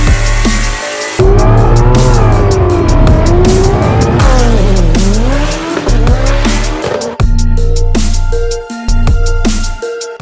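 A loud Ford Boss 302 engine with LE47 parts revs and roars through a free-flowing exhaust, pitch rising and falling with sharp throttle blips and a few abrupt cutoffs.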